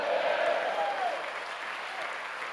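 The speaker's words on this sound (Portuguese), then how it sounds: "dá um glória a Deus e uma linda salva de palmas a Jesus" Soft, sustained applause from a church crowd, a dense wash of clapping at moderate distance with faint voices underneath, slowly easing off.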